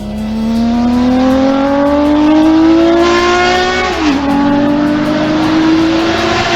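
A Honda CBX 1000 inline six-cylinder motorcycle engine revs steadily upward through its exhaust, a smooth loud wail that rises in pitch, dips briefly, then climbs again, close and sustained with no talk.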